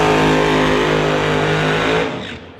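Pro Mod drag car doing a long burnout down the TCS lane at a West Coast Pro Mod event, a loud sustained engine roar with squealing tires that holds steady, then fades as the car pulls away.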